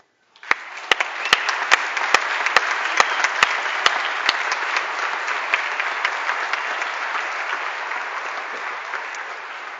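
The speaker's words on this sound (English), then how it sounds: "I invite you now to show your appreciation through a very loud round of grateful applause." Graduates and guests at a December 2016 EMBA graduation ceremony break into a loud, sustained round of applause, with a few sharp individual claps standing out early before the clapping settles into an even, continuous roar.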